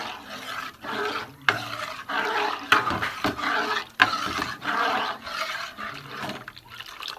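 Milk being stirred into warm water in a cooking pot, a steady close scraping and swishing that runs continuously in repeated strokes.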